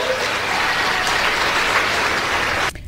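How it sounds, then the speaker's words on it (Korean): Crowd applause at a political rally with a Trump campaign audience, a steady dense wash of clapping that holds for nearly three seconds before cutting off abruptly. "그다지 강렬하게 응원하진 않았지만 박수 소리가 나오기는 했습니다"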